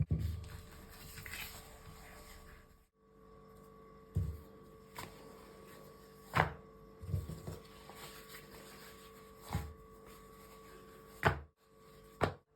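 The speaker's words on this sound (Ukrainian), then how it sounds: "тісто розкатується досить добре, легко розкатується" Croissant dough is rolled out on a work surface, giving quiet, scattered knocks and soft thumps from the rolling pin, with no talking.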